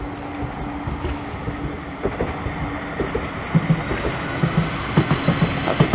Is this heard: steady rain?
no